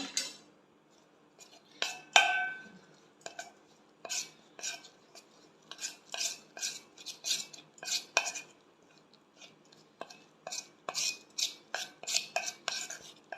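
Chicken kabab masala is mixed in a bowl, with a long run of close, sharp clinks and scraping taps from a utensil against the bowl, coming in uneven bursts and short pauses.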